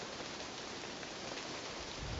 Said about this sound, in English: And no, it's rain again. It's mist again. It's damp misery again.